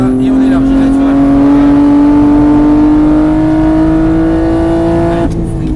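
Car on the Mireval race track holds steady acceleration, a loud continuous engine drone rising slowly in pitch for several seconds before easing off.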